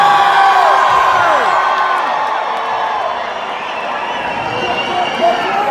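Large crowd at a concert cheering and whooping loudly and steadily throughout, a dense wall of voices with scattered shouts rising above it.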